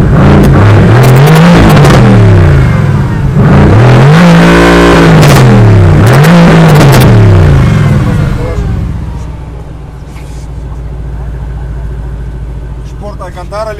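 Mercedes-AMG GT R with its sports exhaust switched on, revved hard in three loud, rising and falling bursts up close, then settling to a lower idle rumble.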